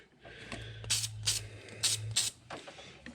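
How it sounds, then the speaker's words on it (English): Battery terminal sealer hisses from an aerosol can onto the cable terminals of a 1988 Ford F-150, heard as four short close bursts in two pairs over a low steady hum. "I'm just going to spray both sides of these."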